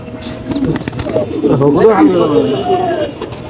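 Siraji pigeons coo close by, low rolling calls repeating through the clip with a brief wing flutter, while people talk over them.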